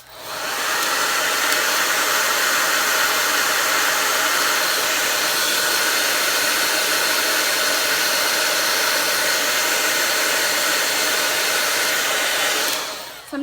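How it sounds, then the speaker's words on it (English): A blow dryer runs continuously at a steady, loud whoosh for over ten seconds during eyelash mascara application, switching off at the end. "I like to use my blow dryer when I comb them sometimes"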